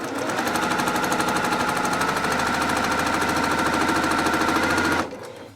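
An industrial-grade embroidery machine stitches a Santa table runner in steady, rapid, loud mechanical chatter with a regular pulse, running continuously before stopping abruptly near the end.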